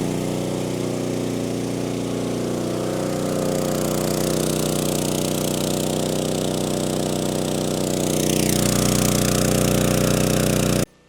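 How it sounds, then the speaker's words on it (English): A steady Efurden 4400-watt inverter generator engine drone runs continuously under load, loud and close, with a slight rise in pitch and volume near the end before cutting off abruptly. "This thing's running it just fine. It is a little bit louder."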